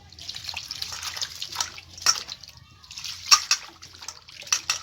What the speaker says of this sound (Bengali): আবারও আমি জল দিয়ে ধুয়ে নেব